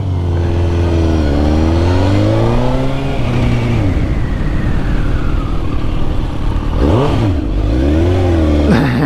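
A Suzuki GSX-R1000 sport bike engine roaring loudly up and down through the revs while riding, close and continuous, with a couple of sharp throttle blips near the end.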